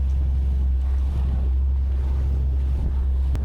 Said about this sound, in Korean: 파도, 파도도 많이 좀 있고 바람도 좀 많이 불고